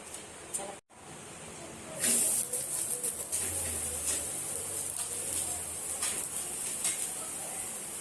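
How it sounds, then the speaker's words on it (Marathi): Rajgira thalipeeth, a fasting flatbread, roasting in a pan over low heat, giving a steady close hiss and sizzle that swells after a brief gap, with faint utensil clinks and no speech. "मंद आचेवर आपल्याला हे भाजून घ्यायचं आहे"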